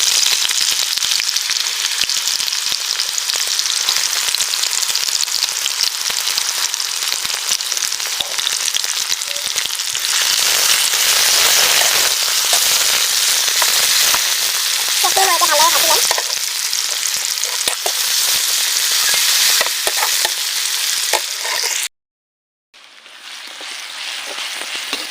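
Chopped onions hit hot oil in a heated kadai and sizzle loudly and continuously up close, a dense bright hiss with some stirring scrapes, before cutting off abruptly near the end. No one speaks.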